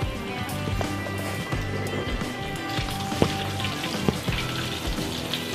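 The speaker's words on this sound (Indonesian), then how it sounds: "kita goreng sampai warna coklat" Chicken karaage frying in oil over a low flame gives a steady, close sizzle with a few sharp pops and crackles scattered through it.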